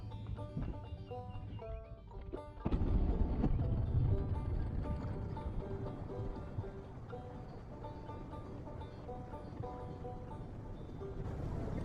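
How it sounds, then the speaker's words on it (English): A small boat's outboard engine starts with a sudden surge and keeps running steadily on windy water among trees, its loud droning hum persisting throughout with no talk over it. "Let's start the engine up and head back over that way"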